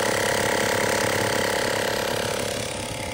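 Air compressor running continuously at close range, a loud steady mechanical hum with fast chugging pulses that eases off slightly near the end.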